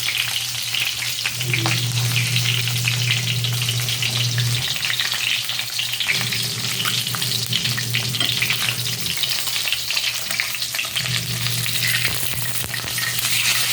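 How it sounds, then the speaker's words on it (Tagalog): Steady loud sizzling of pork belly frying in a pan, with a constant crackling hiss and occasional stirring scrapes, no voices. "Yun, nagprito na. Inaana natin ang apoy mga palalabs. Kasi masyadong nakalsik."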